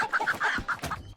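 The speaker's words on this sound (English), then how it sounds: "anytime I'd pick up a chicken and heard it scream" A chicken in the Moving Out video game squawks and clucks frantically as it is picked up, a quick burst of six or seven loud, close, shrill cries in just over a second.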